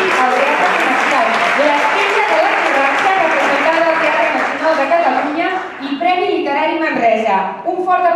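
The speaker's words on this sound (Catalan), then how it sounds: "Un fort aplaudiment per Rubén." Audience applause fills a theatre during an awards night, loud and sustained, with voices mixed in and the clapping thinning out toward the end.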